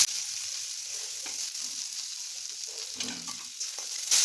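Cumin seeds and chopped onion frying in a small amount of oil for sabudana poha, a steady close sizzle with a few spoon scrapes and a louder crackle near the end.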